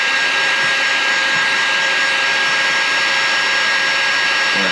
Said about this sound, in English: So we'll just do that real quick and heat shrink this down.